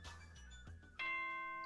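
An electronic doorbell chime in the video game Danganronpa 2 sounds as two clear, ringing tones, the second note louder and sustained as it fades.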